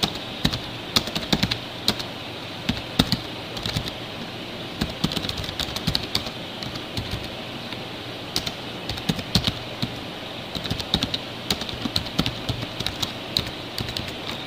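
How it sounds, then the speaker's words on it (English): Fast typing on a computer keyboard, a steady stream of close, crisp key clicks with irregular rhythm and occasional louder taps, over faint background hum. "Here I can type in some explanatory text."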